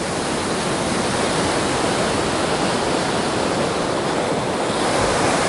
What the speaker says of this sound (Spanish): Fuera la ola.